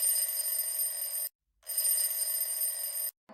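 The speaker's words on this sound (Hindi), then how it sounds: "तभी उसका फोन बज उठा।" A phone rings with two long electronic trills in a steady pattern, each a bright, buzzing tone lasting over a second, separated by a brief silence, clear and alone.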